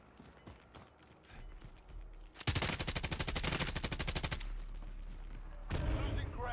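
In Call of Duty Warzone, rapid automatic gunfire is aimed at a car, a dense sustained burst of close, loud shots with a second burst near the end, while players talk over it.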